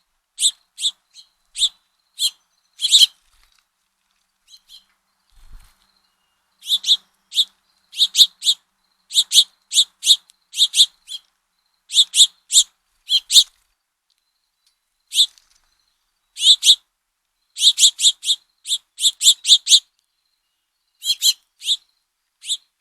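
A house finch gives bright, high chirping calls in short clustered bursts with quiet gaps between them, close and clear against an otherwise silent background.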